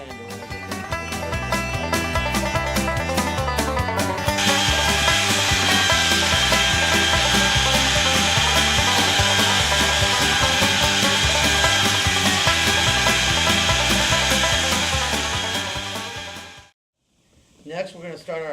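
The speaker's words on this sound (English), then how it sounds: "We're going to belt sand it with heavy coarse 36 sandpaper" A belt sander grinds across mesquite wood with heavy, coarse 36-grit paper, a loud, steady abrasive roar that holds for most of the stretch before cutting off near the end.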